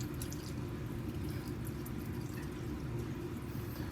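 Water drains off eggshells soaked in dish soap, a steady low trickle and pour with faint intermittent drips over a continuous murmur, fairly quiet and close.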